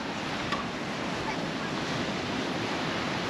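Sea waves wash steadily onto the long sandy shore of Patara beach in Turkey, forming a continuous broad roar mixed with wind buffeting the microphone.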